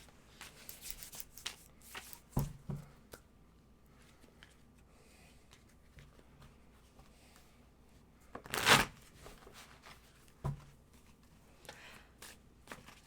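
Tarot cards riffle and shuffle in a few short bursts close by, with soft rustling and quiet gaps between them.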